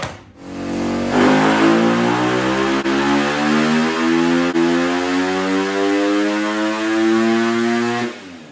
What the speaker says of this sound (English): make some noise on this brand new, beautiful 2025 250 race motor.